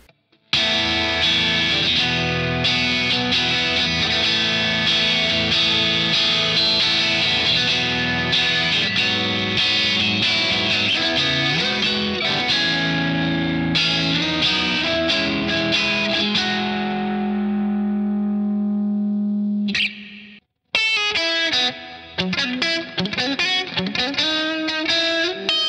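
Electric guitar through a snappy prog-style Bias FX2 amp preset, playing dense, heavily distorted riffs with chorus shimmer, loud and continuous, breaking briefly near the end before resuming with choppy picked notes.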